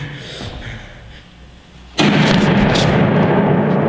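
A stage play's gunfire effect sounds during a theater performance, a sudden loud blast that cuts in after quiet room tone and holds as a dense roaring burst to the end.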